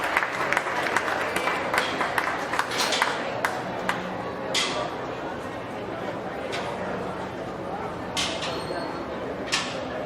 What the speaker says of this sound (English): Can you give them a nice round of applause if you could as we exit your final class of spotted female.